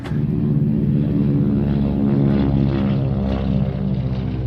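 A propeller airplane engine droning in a loud, continuous, close-up hum with a low rumble and steady tone, no voices over it.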